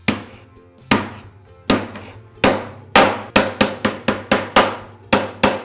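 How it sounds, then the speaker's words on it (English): A hammer repeatedly strikes a wooden frame to distress it, about fifteen sharp, close knocks, spaced slowly at first and then coming in quicker bursts. "We're going to gouge, hammer, and just beat up this frame so it looks like a really weathered piece of wood."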